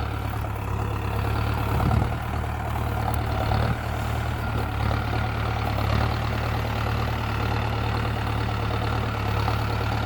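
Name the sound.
Mahindra tractor engine running in medium first gear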